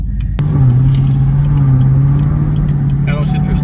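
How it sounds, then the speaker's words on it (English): A Chevrolet Camaro ZL1 with stock exhaust and no mid-muffler delete makes a loud, steady, low engine rumble after a sharp start, with people talking over it. "Yeah, it's a stock exhaust. Sounds good. No mid muffler delete yet, nothing."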